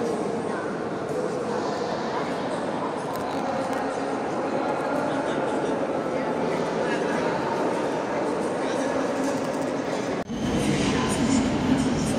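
A train runs at a railway station in Belgium, giving a continuous low rumble and clatter with faint voices mixed in. The sound shifts abruptly near the end.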